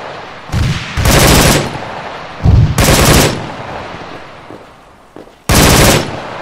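Gunfire in the military shooter ArmA 3, with several loud bursts of rapid automatic fire separated by short pauses and quieter background noise.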